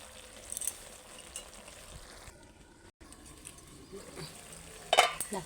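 Chingri shak greens being stirred in a pan, a soft continuous scraping and faint sizzle at low level, with a brief louder clatter near the end and no talking.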